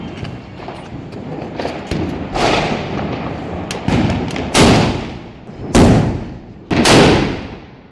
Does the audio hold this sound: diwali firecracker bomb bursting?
yes